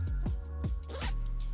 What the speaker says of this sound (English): another little Kindle sleeve with a zipper